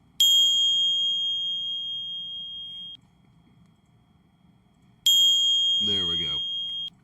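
Two bright, clean bell dings ring out with long sustained tones, the first fading out after a few seconds, the second answered by a brief voice.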